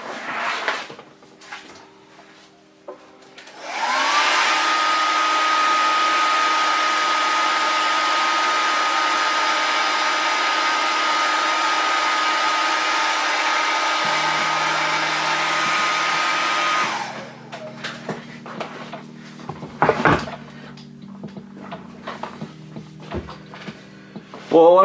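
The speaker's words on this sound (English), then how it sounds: "So let's blow dry this up a bit." A hair dryer blows steadily at close range for about thirteen seconds while a doll base for Jessica Rabbit is dried, then clicks off. Quiet handling noises follow.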